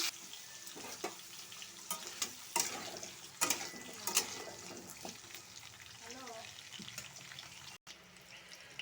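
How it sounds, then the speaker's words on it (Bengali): Oil sizzles steadily in a kadai as potatoes and pointed gourd fry after a cumin tempering, with occasional clinks and scrapes of a spatula stirring them. "পটল আলুগুলো ভাজতে দিয়ে দিলাম"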